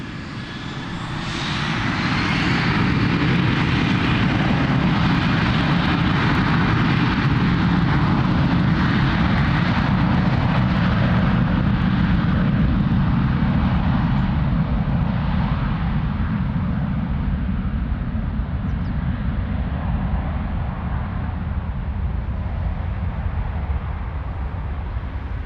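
A jet airliner takes off from runway 02 at Lisbon Airport, its engine roar building in the first seconds and then holding as a loud, steady, broadband rumble with a high whine on top, nearby and alone for the whole stretch.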